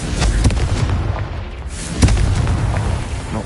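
Loud, close booming blast from the Confringo explosion spell in the game Hogwarts Legacy, a dense rumbling burst with a sharp crack around the two-second mark and sustained roaring debris noise throughout.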